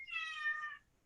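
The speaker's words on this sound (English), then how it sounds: "that's my cat. Very loud one." A house cat lets out one loud, drawn-out meow lasting under a second, clear and close, with nothing else heard around it.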